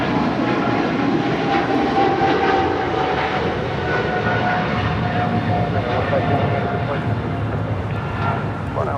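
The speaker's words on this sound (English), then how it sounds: "This is Japan Airlines Flight 15, taking off to Tokyo Haneda on a 777-300ER" A Japan Airlines Boeing 777-300ER roars on its takeoff roll at LAX, a broad sustained jet-engine rumble and whine that stays loud throughout, heard from a distance at the airport.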